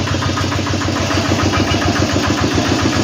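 Walk-behind tractor engine chugging steadily while backing up in a field, a loud close single-cylinder putter with a fast, even knocking beat and rattling vibration.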